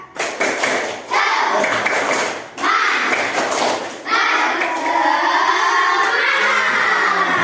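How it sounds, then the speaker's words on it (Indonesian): Schoolchildren in a classroom perform the tepuk semangat clapping chant, rhythmic bursts of group clapping with shouted voices, loud and close, pausing briefly around two and four seconds before a steadier stretch. "Bisa tepuk semangat?"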